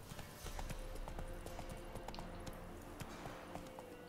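Horse hooves clip-clop at a steady running gait along a road in The Witcher 3, a continuous rhythmic patter over a dense game ambience.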